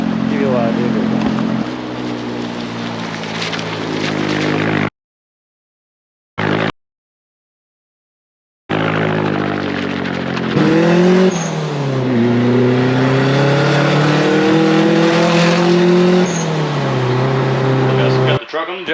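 A turbocharged KA24E Nissan D21 Hardbody pickup drives in the rain, its engine revving up and down through gears with a droning pitch, broken by brief gaps of silence while someone talks over it.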